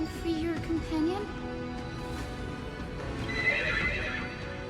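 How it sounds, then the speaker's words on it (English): A horse in the video game Honkai: Star Rail whinnies loudly up close, a drawn-out neigh with hoof clip-clop, followed by a fainter high call under game ambience. "Oh wait, that's a horse noise."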